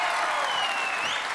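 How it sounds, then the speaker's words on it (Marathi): A studio audience applauds three guests being welcomed, a steady wash of clapping that continues evenly throughout with a faint whistle-like tone riding over it. "जोरदार टाळ्या तिघांसाठी."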